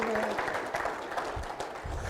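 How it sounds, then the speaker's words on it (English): Audience at an agricultural growers' meeting clapping for a short burst, a steady wash of applause from a nearby crowd with a voice briefly mixed in. "we need to give them a big round of applause"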